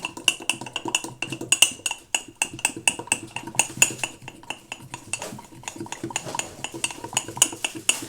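A spoon stirs mug cake batter without leavening inside a mug, making quick rhythmic clinks and scrapes against the ceramic at a brisk, uneven pace, close up with no voices.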